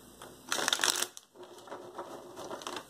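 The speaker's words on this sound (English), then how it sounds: "Let's do one more shuffle here." Tarot cards shuffled by hand during a reading, a short burst of quick riffling flutters in the first second followed by softer, sparse card handling, quiet and close with no talk.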